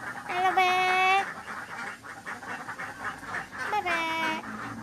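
Two drawn-out, nasal quacking calls from a duck ring out close by, one at the start and another near the end, while a person talks softly in the background.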